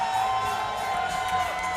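Crowd cheering and whooping at an amateur MMA event in St. Louis, a dense, steady roar of many voices filling the hall for a fighter's debut, loud and sustained throughout.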